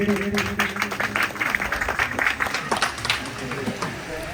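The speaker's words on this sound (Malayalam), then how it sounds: "നല്ലൊരു കയ്യടി" Audience applause at an Onam gathering, a dense, steady patter of clapping from a crowd that holds through the whole stretch with voices mixed in underneath.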